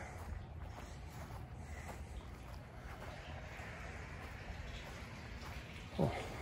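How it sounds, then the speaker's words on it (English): Faint water runs steadily through an old sewage line at an abandoned roadside root beer stand, a low continuous trickle with a soft splash near the end. "I can hear water, so current sewage line"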